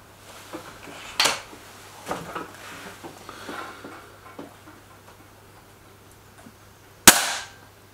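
Two sharp air rifle shots, from a Webley Xocet or Stoeger RX20 S2, crack out alone: a lighter one early, then a louder, close report near the end, with small clicks and handling noises between.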